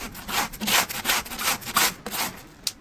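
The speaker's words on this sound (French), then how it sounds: "Il gratte bien, il est plus costaud que les autres brosses." A stiff brush scrubs a bicycle during cleaning, giving harsh rhythmic rasping strokes that are loud and close, with no talking.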